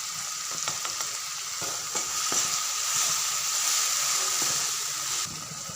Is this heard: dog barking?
no